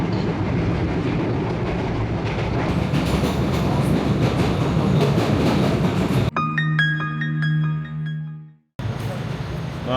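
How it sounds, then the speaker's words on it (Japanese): A train departs in New York, rumbling and clattering along the rails, loud and close, followed by a brief tonal chime and a quieter pause as it moves off. "電車が出発した。"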